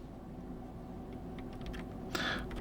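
A switch puller plucks a keycap off a DarkBeacon Flux 87 HE hot-swap keyboard, giving a single small plastic click near the end after quiet handling noise.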